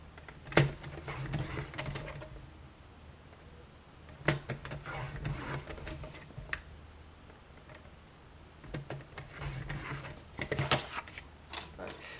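A Stampin' Trimmer scores cardstock for a Halloween matchbox with a few short, sharp mechanical clicks and scrapes spread across a quiet room, each a brief burst separated by stillness.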